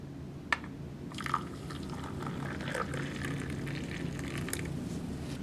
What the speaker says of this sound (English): Add some hot water.